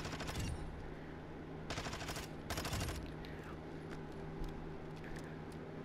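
Jack Vaznev 9K submachine gun firing in Modern Warfare II, several loud full-auto bursts with pauses between them, followed by quieter in-game clatter and background noise.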